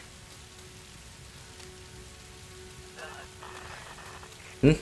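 Steady rain from the Tomb Raider video game falls as a soft, even hiss across the whole stretch, with a brief louder knock right at the end.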